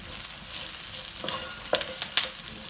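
Raw banana stirred and fried in a pan with asafoetida and curry leaves, a continuous close sizzle broken by a few sharp scraping stirs toward the end.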